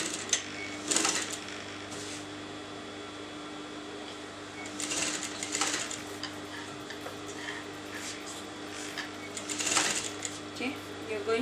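A sewing machine stitches a garment seam running from the shoulder neck point to the neckline, in short bursts of rapid mechanical whirring separated by pauses, with a low steady hum throughout.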